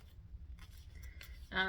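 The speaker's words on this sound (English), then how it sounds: "I'm going to find the center of this, and I'm going to put a snip." Scissors snip into fabric at the center of a zipper panel being sewn, a single short crisp cut near the end, preceded by quiet handling and faint background rumble.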